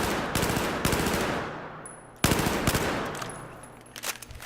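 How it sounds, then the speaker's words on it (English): Bursts of rapid automatic fire from an ACWR rifle in Battlefield 4, a few short loud volleys with decaying echoes between them, close and sharp. "And a little bit of burst fire"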